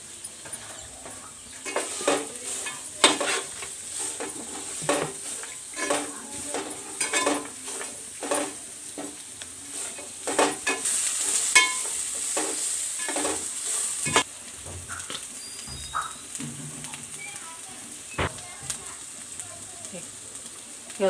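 Carrots sizzle in oil in a pan while being stirred, with a steady frying hiss under repeated scraping strokes and occasional clinks of a utensil against the pan, close and moderately loud.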